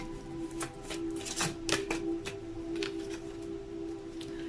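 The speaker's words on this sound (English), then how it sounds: "I'm guided to shuffle again for the second card" Tarot cards being shuffled by hand give a string of soft, irregular riffling snaps and flicks, close and quiet, with a faint steady hum behind them.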